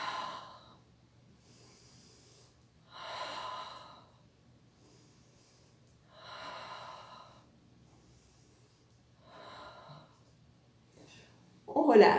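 Slow, audible breaths during a Pilates exercise, in and out, with four evenly spaced airy exhalations about three seconds apart over near silence, then a sharper, louder breath at the end.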